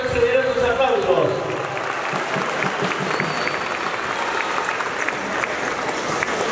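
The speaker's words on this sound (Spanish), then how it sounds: "gracias también a ese público por esos generosos aplausos" Generous audience applause at a live event, a dense, steady patter of many hands that carries loudly through the whole stretch, with a brief tonal sound at the start.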